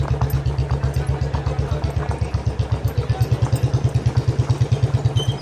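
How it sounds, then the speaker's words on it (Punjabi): A tractor engine runs on a road, giving a close, loud, steady rhythmic thumping and chugging throughout with little change in level. "ਟਰੈਕਟਰ ਆ ਗਿਆ ਲੰਘ ਗਿਆ"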